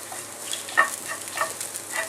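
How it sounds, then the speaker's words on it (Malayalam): Crushed chilli sizzling in hot oil with ginger and garlic for dragon chicken, a soft, steady frying hiss with a few light stirring scrapes. "ഇനി ആ ക്രഷ്ഡ് ചില്ലി ഒന്നും എണ്ണയിൽ കിടന്ന് മൂത്ത് വരണം."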